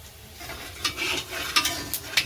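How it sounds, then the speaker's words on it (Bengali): Whole spices, dried red chillies, cardamom and cinnamon frying in white oil, a soft steady sizzle with a few brief brighter crackles and spatters, close by and alone. "শুকনো লঙ্কা আর গরম মশলা। ফোড়ন হিসাবে এটা দেবো"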